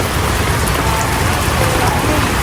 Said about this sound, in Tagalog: At malakas naman talaga ang ulan.